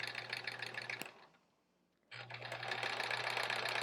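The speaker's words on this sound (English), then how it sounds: "so I'm just sewing" Sewing machine stitching quilt fabric: a steady, close mechanical whir with a rapid needle rhythm that stops for about a second and then starts up again at full speed, with no talking.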